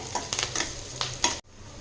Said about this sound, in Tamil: ஒரு கொத்து கருவேப்பிலை சேர்த்திக்கலாம் வெங்காயம் பச்சை மிளகாய் வந்து நல்லா வதங்கட்டுங்க